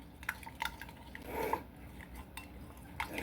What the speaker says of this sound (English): we are going to go ahead and stir up our mixture